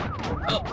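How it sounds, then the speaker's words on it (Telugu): Siren sounding from a car, wailing tones that sweep up and down, fairly faint and brief, heard close inside the vehicle. "ఏంటి ఆ సౌండ్? సైరన్ సౌండ్ అండి."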